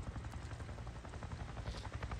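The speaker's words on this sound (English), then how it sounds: "a helicopter" Helicopter in the video game Days Gone: a steady, fairly loud rotor rumble with a fast throbbing pulse, heard alone with no talking.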